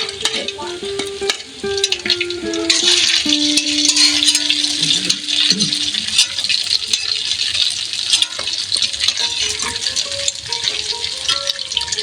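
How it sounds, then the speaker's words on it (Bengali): Jackfruit pieces coated with an egg batter sizzle and bubble steadily while deep-frying in plenty of hot oil in a village home kitchen, with occasional stirring, close and continuous, no talking. "যত ডুবা তেলের মধ্যে ভাজবেন এটা তত ফুলে উঠবে"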